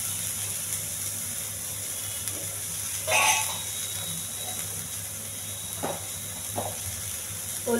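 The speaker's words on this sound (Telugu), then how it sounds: "పచ్చిమిర్చి, ఉల్లిపాయలు, ఇది దోరగా ఎగట్టాలండి" Green chillies and onions fry in a pan with a low, constant sizzle. A few sharp scrapes and clatters from stirring break through it, the loudest one near the middle.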